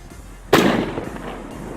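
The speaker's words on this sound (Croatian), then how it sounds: "Jedno od jakih petarda." A strong firecracker explodes in a single sharp, loud blast about halfway through, then its booming echo fades slowly over the following second. No one speaks.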